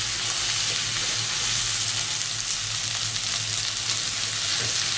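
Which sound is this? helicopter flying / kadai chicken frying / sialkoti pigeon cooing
kadai chicken frying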